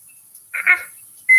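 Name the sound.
kitchen timer beeping as it is set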